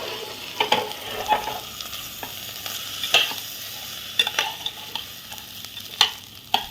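Washed rice sautéed with cloves in a hot pan, a crisp close sizzle broken by repeated rhythmic scraping strokes of a spoon, with no talking.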